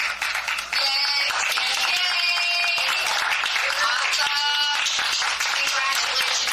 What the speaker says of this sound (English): I want to applaud everybody that's doing that